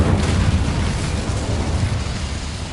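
The Incendio fire spell from Hogwarts Legacy erupts in a loud, roaring burst of flame, a heavy rumbling blast that slowly eases over a few seconds.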